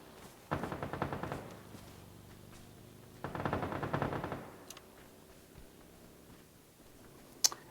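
Automatic gunfire in the mobile battle royale PUBG New State on the Erangel map: two fairly close rapid bursts of roughly a second each, separated by a quiet gap, then a single sharp shot near the end.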